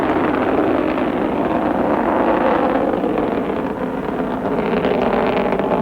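An Atlas rocket carrying a Mercury spacecraft lifts off with a loud, continuous rushing roar that stays steady and unbroken throughout, with no voices over it.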